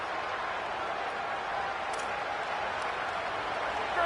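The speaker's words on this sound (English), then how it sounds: "This crowd ready to make its presence known." Football stadium crowd at a Michigan vs. Oklahoma game, a broad, continuous roar of cheering and applause from thousands of fans, steady throughout with no single voices standing out.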